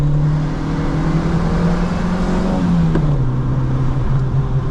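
1994 Škoda Favorit 1.3i engine while driving: a loud, steady interior drone of the small four-cylinder under load, its pitch dropping slightly as the car shifts or eases off, with no talk.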